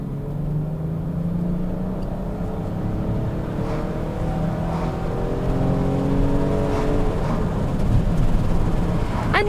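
A Volvo XC90 3.2 engine accelerates hard in a rolling pull, its steady drone climbing in pitch through the gears as revs rise, loud and continuous from inside the cabin.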